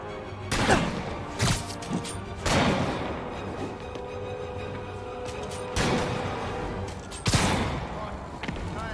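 Repeated bursts of gunfire from enemies in the Spider-Man Remastered video game, several loud volleys with sharp cracks and booming impacts spread across the stretch, over a steady background of game sound.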